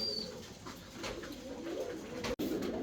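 A pair of fancy pigeons coos softly and repeatedly at close range in a brief, quiet stretch, with a short dropout near the end.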